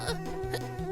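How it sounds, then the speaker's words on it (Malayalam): A cartoon housefly buzzes in a short, wavering whine that rises and dips in pitch, loud and close, with no talking. "ഈച്ചയെ നശിപ്പിച്ചേ മതിയാകൂ."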